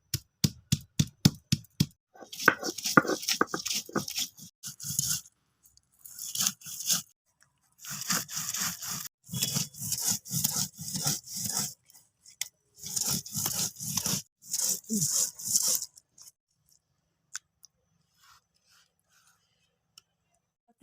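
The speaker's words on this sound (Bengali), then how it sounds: "আমি ধনে পাতা এগুলোকে আমি সব একসঙ্গে বেটে নেব।" Garlic, ginger and coriander leaves being ground together in a mixer grinder, loud bursts of whirring, crunching rattle starting in short pulses then running in longer stretches, stopping near the end.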